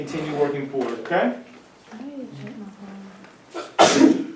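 A single sharp sneeze bursts out near the end of a classroom, loud and close, following a teacher speaking to students.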